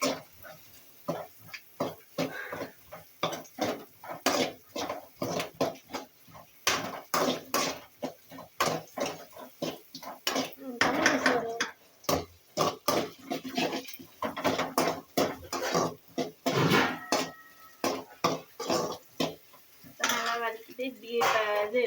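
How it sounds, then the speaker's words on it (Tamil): A spatula scrapes and taps against a metal pan while carrots are stirred and sautéed, making a close, irregular run of clinks and scrapes that carries on throughout with a few faint voice-like sounds mixed in. "இதை நல்லா வதக்கணும். 2 நிமிஷம் நல்லா வதக்கணும்"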